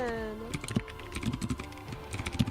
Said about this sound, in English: I can hear MJ typing